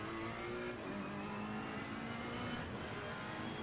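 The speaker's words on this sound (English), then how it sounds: "Ferraris are a nice car to drive in here." Ferrari race car engine in Assetto Corsa Competizione, a steady loud drone with shifting engine tones over continuous road and tire noise, no talking.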